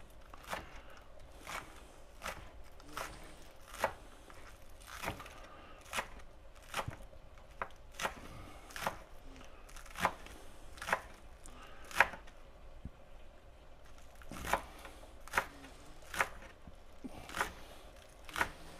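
A knife chops green onions on a board in sparse, irregular crisp taps, close but quiet, with no talking.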